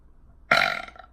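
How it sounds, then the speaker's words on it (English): A single loud, close burp rumbles out suddenly after a quiet moment and fades over about half a second. "that was a big burp"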